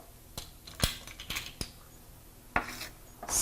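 Garlic dill sauce stirred in a pot: quiet scattered clinks and taps of a spoon against the metal, irregular and close, ending in a brief louder rattle.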